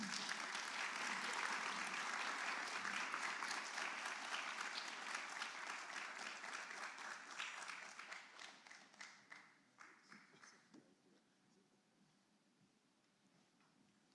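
An audience applauds after a memorial lecture, with dense sustained clapping that gradually thins out into scattered individual claps and fades to quiet.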